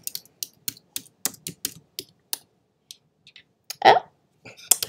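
Keys clatter on a computer keyboard in irregular bursts of quick clicks with short pauses, close and fairly quiet, during a crafting chat, with one louder rustling thump near the end.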